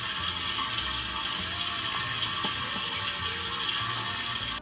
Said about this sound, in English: you'll start to hear the gas going into